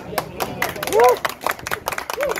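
Several people clap their hands together at an off-road winching demonstration, with sharp, uneven claps close by and voices calling out between them.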